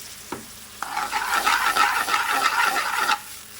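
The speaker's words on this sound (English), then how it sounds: "I don't have my wooden spoon with me, so sorry about the banging and tapping." A metal spoon clanks and taps against a pan while stirring frying onions for a BIR-style chicken tikka paneer curry, rhythmic clattering strokes over a soft sizzle, close up with no talk.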